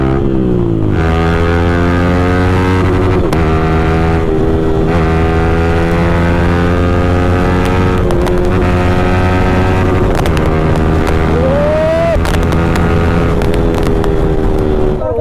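Motorcycles fitted with full-system aftermarket exhausts give a loud, sustained, close engine drone with rich harmonic tones that dip and rise in pitch, with gusts of wind noise over the microphone.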